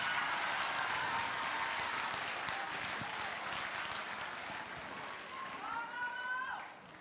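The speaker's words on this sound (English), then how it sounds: "Give her a round of applause" An audience breaks into applause, a broad wash of clapping that gradually thins out, with a brief rising whistle-like tone near the end.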